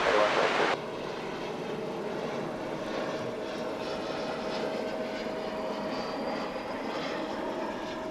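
A British Airways jet taxis slowly at Dallas/Fort Worth Airport, its engines giving a steady droning whine with a faint tone, heard from an outdoor spotting plaza with some speech over it.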